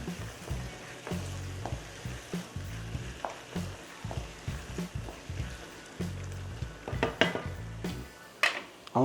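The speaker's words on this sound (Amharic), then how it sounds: "አሁን ስጋ እንጨምራለን።" Meat sizzles in a pan while being cooked for macaroni, with rhythmic stirring and scraping of a utensil against the pan throughout, fairly quiet and close, with no talk.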